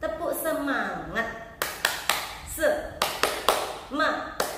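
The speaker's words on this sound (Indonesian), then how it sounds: "Kita tepuk semangat dulu." A group of people claps in a rhythmic 'tepuk semangat' spirit clap during a children's lesson. A voice talks at the start, then sharp, loud clapping beats follow in a patterned sequence of single and double claps.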